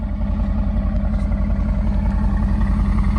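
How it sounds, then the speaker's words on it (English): A 2017 Mercedes-AMG GT S coupe with a RENNTECH-tuned 4-liter twin turbo V8 idles at close range. It makes a loud, steady, low burble with a regular pulsing throb and no talk. "You can listen to that 4-liter twin turbo V8 idling back here."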